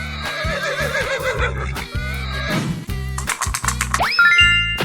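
A horse in a 3D animal video game lets out a wavering, quivering neigh near the start, set over bouncy looping game music with chimes and a rising boing-like effect toward the end.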